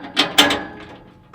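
Bolts being tightened with a 12mm wrench on a catalytic converter anti-theft security plate under a 2022+ Toyota Tundra; two close metallic ratcheting clicks, then fading mechanical rattle.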